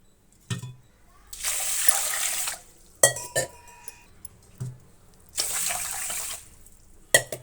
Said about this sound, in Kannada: ಈಗ ಇದನ್ನು ನೀಟಾಗಿ ನೀರಿನಲ್ಲಿ ತೊಳೆದು ನೆನೆಸೋಣ.